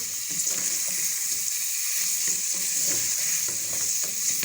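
Sliced green chillies fry with tinda (gourd) keema in a pan, giving a steady, close sizzle with faint stirring and scraping underneath. No one speaks.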